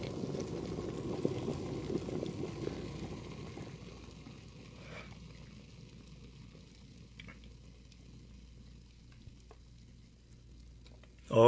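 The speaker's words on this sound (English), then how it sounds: "It's boiling so hard." Water boiling hard produces a dense, bubbling roar that fades after a few seconds, leaving a quiet hum with faint clicks and a sudden loud thump at the end.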